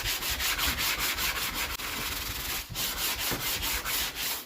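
Sheets of 80-grit sandpaper rub back and forth over rusty car bodywork during a small repair, giving a quick, rhythmic rasping scrape in even strokes with a brief pause midway.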